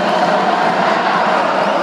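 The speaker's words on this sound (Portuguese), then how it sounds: "E a torcida tá aí," Futsal fans in an indoor arena roar in a steady, dense wall of cheering and crowd noise, loud and continuous without a break.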